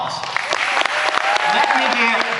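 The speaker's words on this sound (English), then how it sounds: "give them all a round of applause" Audience applause at a small gathering, scattered clapping with people talking over it and a few sharp hand claps standing out.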